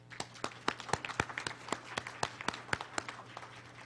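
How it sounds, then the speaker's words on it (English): A small audience at a Black History Month student essay awards ceremony claps in sparse, distinct hand claps, fairly close, lasting a few seconds. "Give yourselves a round of applause."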